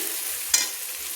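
Spice paste with green chilli frying in oil for a Bengali yogurt chicken, a steady soft sizzle with one brief scrape of stirring near the middle.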